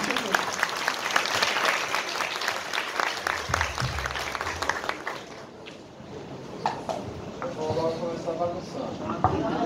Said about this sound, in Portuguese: Pedimos aos presentes uma calorosa salva de palmas